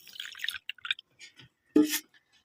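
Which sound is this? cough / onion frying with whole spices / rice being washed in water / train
rice being washed in water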